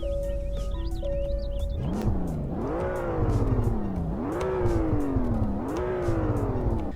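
Aston Martin DB11 with a 5.2-liter twin-turbo V12 making 600 horsepower, revving up hard through several gears in repeated rising pulls, loud and close from inside the car.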